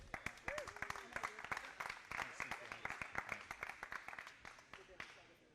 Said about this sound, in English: Give him a big hand of applause, guys